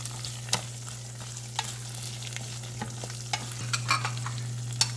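Garlic, onion and ginger frying in a pan for garlic curry, a steady sizzle with sharp clicks of stirring scattered through it, close and alone without talk, over a constant low hum.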